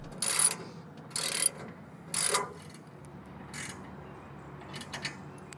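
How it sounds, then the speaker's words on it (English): Socket wrench ratcheting as bolts are tightened on a Roll-A-Ramp RV ramp system, three short bursts of clicking close by followed by fainter, sparser ratchet clicks, no talking. "If needed, use a wrench and socket to tighten the bolts."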